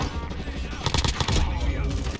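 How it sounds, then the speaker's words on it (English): Gunfire in the video game Call of Duty Warzone: rapid bursts of automatic shots, fairly loud and dense, crackling continuously over a noisy background. "Guy shooting at me."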